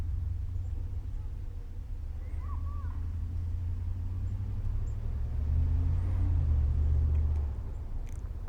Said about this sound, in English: There's a bunch of cars coming.